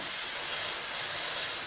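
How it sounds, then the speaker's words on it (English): A steam cleaner hisses steadily on a chrome sink faucet, a loud, close, continuous spray with no pauses. "the steam itself will never deteriorate the chrome on our sink"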